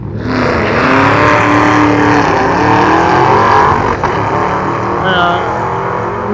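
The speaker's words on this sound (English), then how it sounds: "Newer model Camaro." A loud, throaty newer-model Camaro drag racing engine roars steadily at high revs at a drag strip, close by, with a rumbling drone that holds for several seconds before easing slightly.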